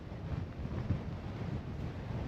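Steady wind buffets the microphone with low rumbling gusts throughout, rough and continuous.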